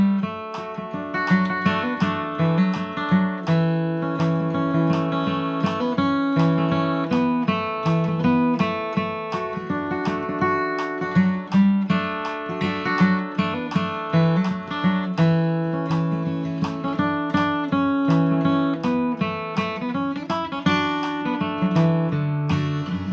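Bluegrass guitar kick-off on a verse, played in C position with a capo: a steady, bright flatpicked melody with strummed chords, continuous and fairly loud.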